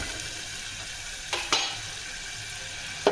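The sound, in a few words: potatoes frying in a pan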